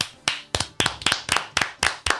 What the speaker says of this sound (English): Big claps for London.